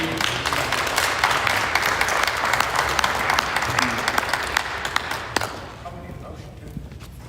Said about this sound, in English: We want to applaud you.